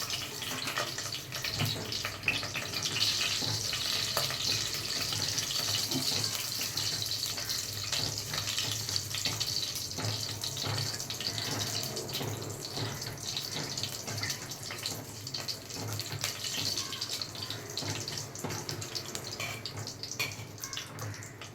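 Mustard seeds crackle and sputter in hot oil with fenugreek for a homemade seer fish curry, a dense, continuous hissing fizz with fine pops running steadily throughout, close by, with no talking.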